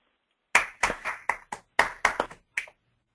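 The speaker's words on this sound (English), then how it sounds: "let's give Hari a warm virtual clap and applause" Eight sharp, separate hand claps in an irregular rhythm, close and clear against silence, giving thanks after a seminar talk on mobile grid computing.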